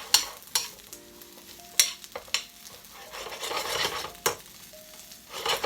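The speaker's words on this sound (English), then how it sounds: "So we're just also going to add a bit of some olive oil. And we're going to stir this up." Mushrooms and pork being stirred in olive oil in a pan, with a steady sizzle and a series of sharp scrapes and clicks from the utensil against the pan, heard up close with no talking.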